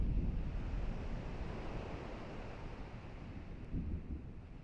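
Storm on the island shore in Kingdom Hearts Final Mix, a steady low roar of wind and crashing waves, fairly quiet and continuous with a slight swell toward the end, no voices.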